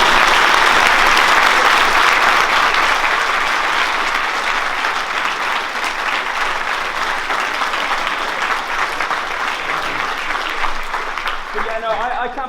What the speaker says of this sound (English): Let's all give me a round of applause.